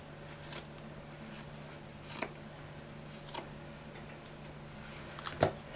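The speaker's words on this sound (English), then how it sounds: "I'm going to go back in and give it another" Scissors snip through yarn ends on a handmade doll, a few quiet, sharp, separate cuts spaced seconds apart against a faint steady hum.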